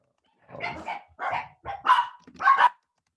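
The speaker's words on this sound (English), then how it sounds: "Sorry if you can hear my dogs." Several dogs bark in short bursts, four or five loud yaps in a row at close range, with no talking over them.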